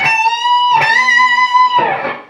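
A distorted electric guitar plays a short outro lick: a held, bent note rings loudly, a second note is struck, and the sound ends in a brief dip of the whammy bar, all within about two seconds.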